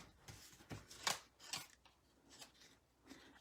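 Scissors snip at paper in several short, crisp cuts spaced irregularly, close and fairly quiet, with no talk.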